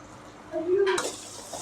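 A brief bit of voice, then small onions drop into hot oil with a sudden, close sizzle that keeps hissing steadily.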